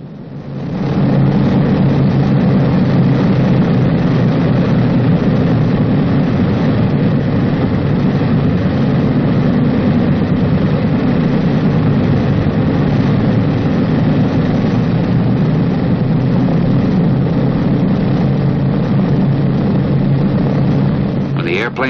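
Piston engines of a Boeing B-29 Superfortress bomber drone steadily while it taxis, a loud, dense, low rumble that swells up at the start and holds constant, with a voice narrating over it.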